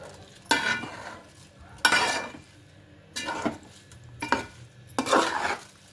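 Chittimutyalu rice stirred and fried in chicken gravy for biryani, heard as four or five distinct scraping stir bursts against the pan with soft sizzling and quiet gaps between them, close and clear with no talk.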